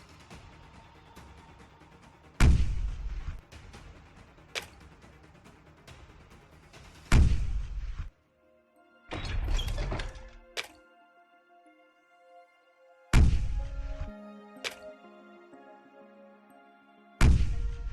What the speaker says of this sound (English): the goal of this game is just to blow up enemies with bombs without blowing yourself up